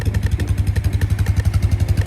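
A freshly rebuilt Honda motorcycle engine with a new top end runs close and loud after starting on one try, a steady fast rhythmic putter with mechanical clatter and no talk.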